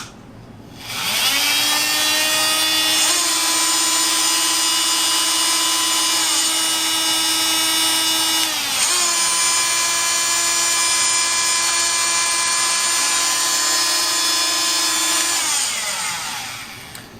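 Dremel MM50 and FEIN MultiMaster oscillating multi-tools run one after the other, a loud, steady high-pitched buzzing whine that shifts pitch at several points as each tool switches or changes speed, heard close with no talk.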